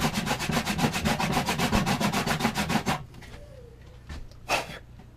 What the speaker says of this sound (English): we just use our handy dandy sandpaper, whatever grit you're comfortable with, and we're going to sand it